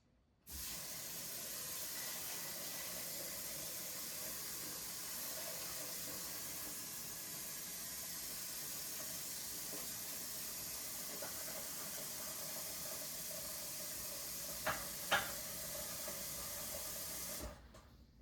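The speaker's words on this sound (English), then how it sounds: "I'm gonna pour water on it." A steady stream of water pours into a pot for about seventeen seconds, with a couple of small clinks near the end.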